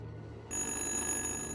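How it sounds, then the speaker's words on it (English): A telephone rings inside the video game Little Hope, starting abruptly after a quiet moment and continuing as a sustained, bright electronic bell tone over a low background hum. "weird that it's ringing though."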